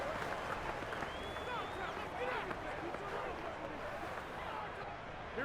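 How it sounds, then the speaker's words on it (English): Stadium crowd noise from a simulated 49ers vs Packers playoff game in Madden 22, a continuous distant roar of many voices with faint whistles and cheers, steady and fairly quiet throughout. "Crowd getting in it a bit already."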